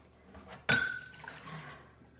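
Hot pickle brine for bread and butter pickles pours into preheated glass jars in a home kitchen: a sudden close splash of liquid, then a thinning trickle that fades over about a second and a half.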